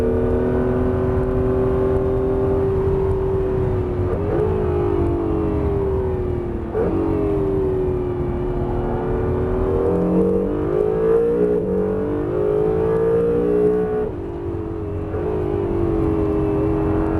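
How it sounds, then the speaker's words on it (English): Honda NSX lapping the Estoril circuit, its engine droning loud and close throughout while the automatic gearbox shifts, the pitch dropping and climbing at each change. "to feel how perfect the gearbox is shifting"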